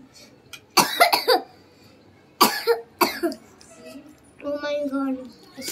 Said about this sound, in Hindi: खांसी है मिर्ची की।